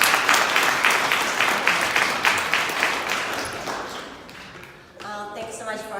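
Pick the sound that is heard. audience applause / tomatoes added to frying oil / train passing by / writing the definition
audience applause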